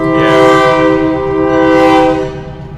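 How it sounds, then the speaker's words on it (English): A passing train sounds a loud, sustained multi-tone horn that swells twice over continuous rumbling rail noise, close by and alone. "There are too many train interruptions today."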